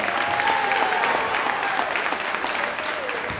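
Steady applause from a crowd at a junior varsity boys' basketball game, filling the whole moment with dense clapping, with a voice speaking faintly underneath.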